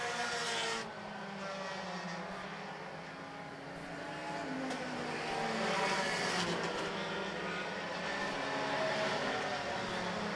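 Race cars drone around a short track at a Concrete Thunder event, their engines blending into a continuous roar that swells and recedes as the pack passes.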